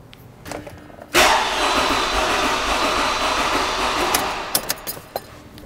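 An engine with a dead cylinder from low compression cranks and catches, then runs loudly with a rough, uneven beat from the misfiring cylinder before a few sharp clicks near the end.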